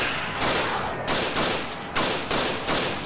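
Gunfire in the video game Judge Dredd: Dredd Vs Death, a run of about six heavy, booming shots at a steady pace, each with a long echoing tail, loud and close with no voices.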